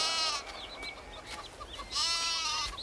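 A goat bleats nearby in two wavering, nasal cries separated by a short pause, loud and clear with no talking over them.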